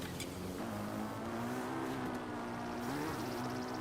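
Motorbike engine in the video game Zelda: Breath of the Wild, a steady droning hum with a slight rise in pitch near the end, holding at one even level throughout.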